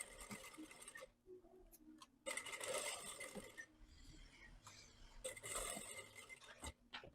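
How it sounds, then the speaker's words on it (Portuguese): Sewing machine running a straight seam on a ruffled V-neck dress with lace, in short bursts of rapid stitching separated by brief pauses, fairly close and steady, with no talking. "agora vamos passar a costura reta"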